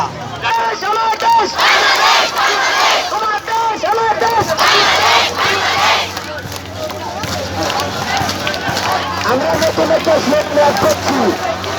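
A large crowd of students at a rally chants slogans together, loud and close, in rhythmic bursts of massed voices with shouted lines and a babble of crowd noise between them.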